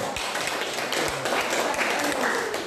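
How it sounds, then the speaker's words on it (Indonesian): A class applauds a student group after its presentation: a thick, continuous patter of many hands clapping, fairly quiet and steady, with a faint hint of voices underneath. "Oke, kita beri tepuk tangan untuk kelompok ini dulu"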